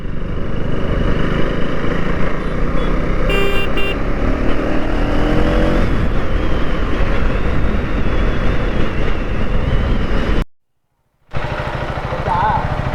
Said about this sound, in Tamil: ரேஸ் ஓட்டுறானுங்க இவனுங்க, கவர்மெண்ட்டும் ப்ரைவேட்டும் சேர்ந்துன்னு